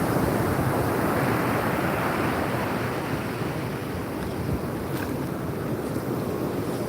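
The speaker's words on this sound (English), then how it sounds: "Tide's coming in." Ocean waves wash steadily onto a beach as the tide comes in, a continuous close surf roar with strong wind buffeting the microphone throughout.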